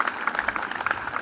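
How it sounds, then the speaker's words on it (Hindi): A child at an inter college gathering claps hands, giving a quick, slightly uneven run of light, close claps of roughly even loudness. "ये देखो बच्चा कैसे ताली बजा रहे।"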